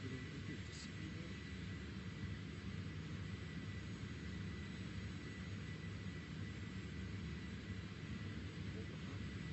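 Airplane engine at full throttle on takeoff, a steady, even jet-like drone held constantly with a low rumble beneath, fairly faint and unbroken.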